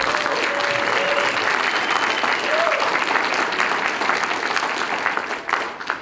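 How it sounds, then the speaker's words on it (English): A large audience at the 2023 ISHOF induction ceremony applauds loudly and steadily in a dense, continuous wash of clapping that holds for several seconds before tapering slightly at the end. "Can you guys give them a round of applause for me?"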